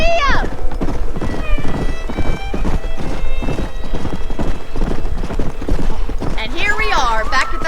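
Horse hooves clip-clop at a steady galloping rhythm in the Red Dead Redemption video game, with whinnies near the start and end and a voice speaking over the hoofbeats.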